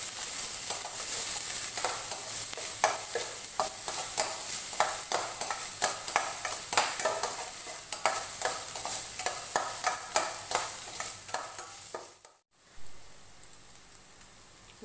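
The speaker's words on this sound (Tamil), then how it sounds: "நல்ல வெங்காயம் வதங்கட்டும்." Onions sautéing in a pan for a Tamil-style bottle gourd sabzi, stirred with a steady rhythm of scraping strokes over a constant sizzle, with a brief pause near the end.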